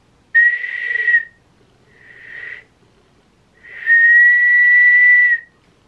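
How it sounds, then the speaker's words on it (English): A person whistles three sustained notes, the first and last long and clear, the middle one shorter and softer, against near silence. "Yo, I've been getting really good at whistling."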